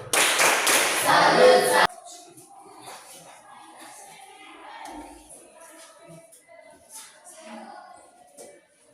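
A short burst of group clapping in a classroom for about two seconds, then it stops abruptly and leaves quiet room noise with faint shuffling.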